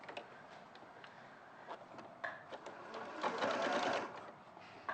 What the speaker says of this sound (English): mark a centre line and just sew up the centre